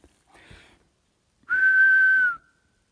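A person whistles to imitate a whistle heard at night in the Adirondack woods. After a faint breathy sound comes a single loud, clear, steady whistle held for about a second.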